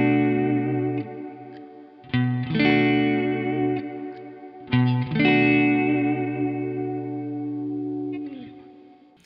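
PRS Fiore electric guitar on the neck and humbucker pickup setting, clean chords strummed and left ringing, with chorus-like shimmer and three distinct attacks that sustain and decay.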